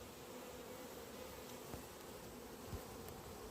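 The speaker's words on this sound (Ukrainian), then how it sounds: "Бачите, скільки бджіл" Honey bees buzzing steadily in a two-storey hive during autumn preparation of breeder colonies, a dense continuous drone close by with no voices.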